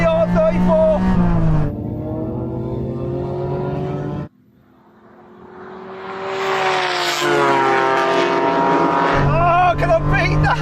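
A Honda NSX and a Nissan Skyline R34 drag race, with a loud engine roar that climbs through the gears, briefly drops away, then surges back to a high-revving howl. An excited voice shouts over it.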